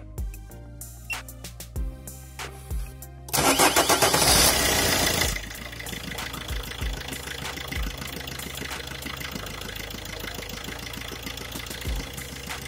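A car starter cranks in a brief, loud burst, then the engine catches and settles into a steady, rumbling idle.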